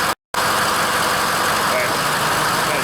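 Ford F-550 6.0 diesel truck engine runs loud and close with a steady rough rumble after a brief dropout, holding a fairly constant pitch rather than climbing.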